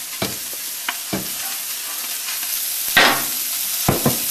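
Seasonings are stirred into a large pot of Creole gumbo, with a soft bubbling sizzle underneath and several distinct scraping, clattering strokes of a spoon against the pot at irregular intervals.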